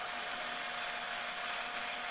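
A steady, continuous whir of a power tool working on a Fender Stratocaster guitar runs without pause, close and fairly loud, with no talking.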